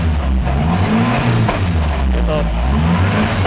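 A turbocharged K24 engine in an all-wheel-drive Honda Civic Estilo with a sequential gearbox drones loudly and close, its pitch rising and dipping as it revs, while someone talks over it.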